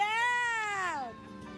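A cat dressed up for a quinceañera gives a single drawn-out, falling meow, loud and clear with no talk over it.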